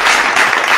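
A crowd of people applauding, dense steady clapping that fills the whole short moment without a break, with no voices heard over it.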